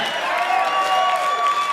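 Live comedy club audience applauding and cheering at a stand-up set, a steady dense wash of clapping with scattered whoops, held at an even level throughout.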